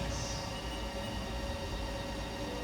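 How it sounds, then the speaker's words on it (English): A Haas TL-3 CNC toolroom lathe from 2011 runs its spindle at 500 RPM, a steady low mechanical hum and whir heard close and unbroken. "we'll do a spindle test. We'll start at 500 RPM."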